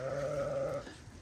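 A single sheep bleats in a pen among a flock of about 25 sheep and lambs on a Kyrgyz farm, one steady, loud, drawn-out call that fades near the end, with no voices.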